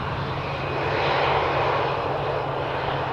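Steady roar of a jet airplane engine as a plane lands in windy crosswind conditions at Amsterdam Schiphol Airport, broad and continuous, swelling slightly in the middle with no other sounds.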